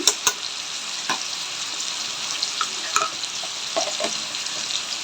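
Tomatoes with salt and turmeric sizzling in a hot pan while being stirred, a steady close frying hiss broken by several sharp scrape and tap sounds from the spoon.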